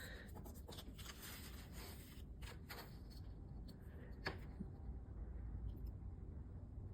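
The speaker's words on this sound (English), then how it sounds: "to take as many cuts as I need to go through that poster board" A blade scores poster board along a ruler in repeated light strokes, short scratchy scrapes coming in bursts and then easing into quiet handling noise, close and faint.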